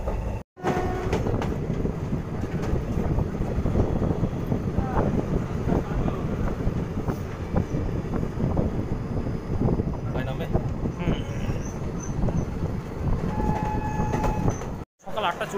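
Steady rumble and rattle of the Lalgola–Sealdah Bhagirathi Express running at speed, heard from inside an AC chair car coach near Krishnanagar City Junction: a continuous, close, dense rolling noise with brief dips, maybe with faint voices in the cabin.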